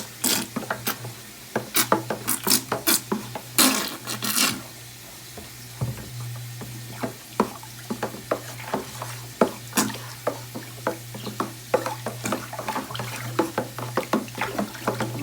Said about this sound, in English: I'm just going to mix that molasses because it's really thick in there.